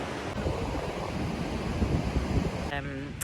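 Broadband wash of ocean surf rolling onto an empty Costa Rica beach on the Nicoya Peninsula, steady and fairly loud with wind buffeting the microphone throughout, a brief tonal whine entering near the end.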